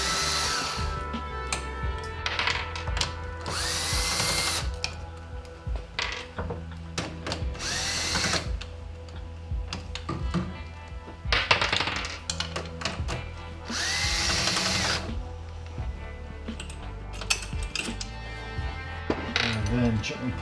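Four 10mm bolts being taken off the control panel of a Honda EU3000IS generator, with bursts of a power driver whirring and metallic clinks of hardware, close up amid shop noise.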